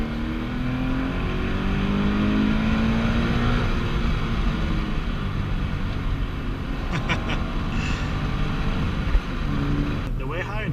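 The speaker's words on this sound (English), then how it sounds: "exhaust induction noise." An E85-tuned Subaru FRS accelerating hard in second gear on a canyon road, heard from the driver's seat as a loud, steady exhaust and induction drone that rises in pitch throughout, with a few faint clicks near the end.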